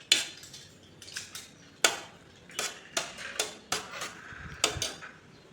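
A metal spoon presses and taps bitter gourd seeds in a dish, giving a series of sharp, irregular clinks and scrapes at close range with no talk.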